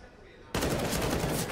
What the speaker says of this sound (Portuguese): Vai tentando agora a trocação de tiro